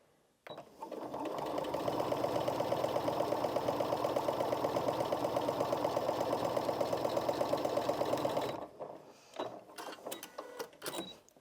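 A Janome MC 6700p sewing machine drives through eight layers of fabric with a long, even, rapid stitching hum lasting about eight seconds, followed by a few clicks and handling noises.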